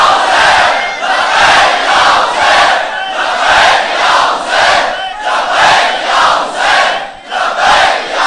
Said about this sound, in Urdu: اب لگائیے لبیک یا حسین.